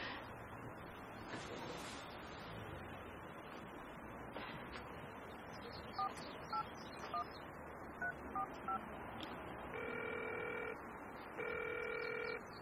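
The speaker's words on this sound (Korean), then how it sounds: "이거 홍콩에 우리 손서 번호인데 전화 좀 걸어줄라나" Touch-tone telephone keypad beeps for an international call, dialed one digit at a time in short spaced tones, then longer held tone blocks near the end, over a quiet indoor background.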